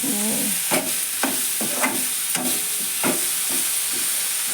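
Broad beans frying in a pan, flat bean pods being tossed and stirred. A close, steady sizzle is broken by repeated scraping stir strokes at roughly half-second intervals, with no one speaking.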